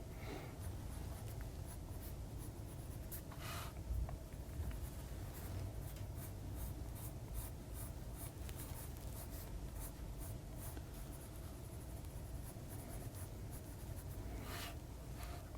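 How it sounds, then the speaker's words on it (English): An ordinary school pencil drawing on paper, steady scratchy strokes running throughout at close range, quiet and alone with no voices. "something very honest about drawing a school chair with a school pencil"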